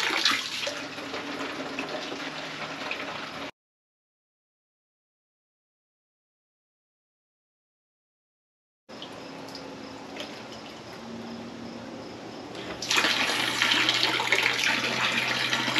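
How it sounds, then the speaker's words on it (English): Water from a hydraulic ram pump pours steadily into a one-gallon jug, a continuous splashing stream broken by a silent gap, then growing louder and brighter as the jug fills. "45 seconds to fill that 1 gallon jug"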